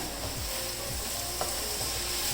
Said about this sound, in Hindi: इसको तकरीबन 4-5 मिनट के लिए मैं इस तरह अच्छी तरह भून लेती हूँ